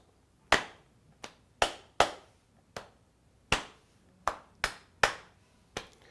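A sparse, irregular pattern of sharp hand claps, about ten in all, crisp and close with short decays and quiet gaps between them.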